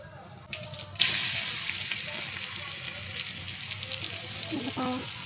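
Hot oil sizzles in a pan as the tempering for palak dal begins, a sudden loud crackling hiss that breaks out after a second and keeps frying steadily.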